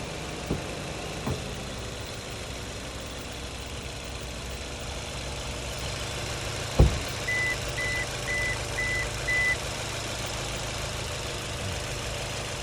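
A Toyota Urban Cruiser's engine idles with a steady, low hum throughout, joined midway by a short run of faint, evenly spaced beeps.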